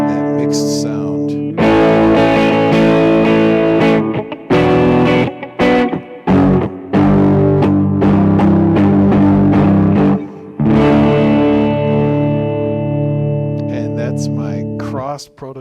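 Frank Stallone electric guitar with both pickups mixed plays loud, distorted chord stabs in a choppy rhythm, with short gaps between struck and sustained chords.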